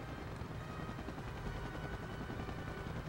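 Helicopters in the video game Spider-Man 2 give a steady, loud rotor thrum with a rapid chopping texture. It runs continuously and alone, with no voices over it.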